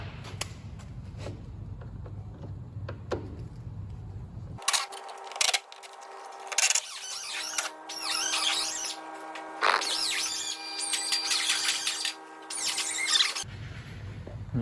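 A Torx 30 socket drives out screws on a Seat Leon during a driver's-side headlamp replacement. A close, whining, squealing tool sound runs for about nine seconds between quieter stretches of low background noise.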